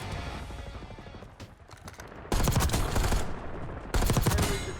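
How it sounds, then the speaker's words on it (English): Rapid automatic gunfire in the shooter video game Black Ops 6 Warzone, loud and close, with sustained bursts that cut off and then resume after short pauses. "we're getting shot from over there"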